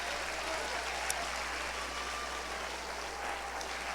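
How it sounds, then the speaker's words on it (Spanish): A church congregation claps at the close of a sermon, a steady, fairly faint wash of applause heard from a distance over a constant low hum. "Un aplauso a Cristo."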